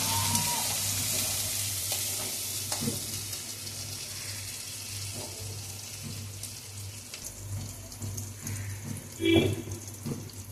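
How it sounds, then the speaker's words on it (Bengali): Ginger and chili pastes fry in a pan with a steady soft sizzle throughout, broken by occasional scraping strokes of a stirring spoon and a faint clink near the end. "এবার মশলাগুলোকে একটু ভাজা ভাজা করা হচ্ছে।"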